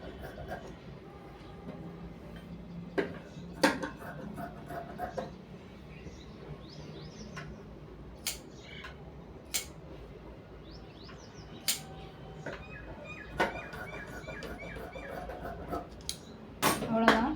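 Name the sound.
scissors cutting blouse fabric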